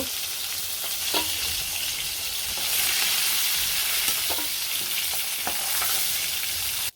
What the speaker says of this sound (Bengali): এই পাশে মাছ ভাজি হয়েছে এখন নামিয়ে নিব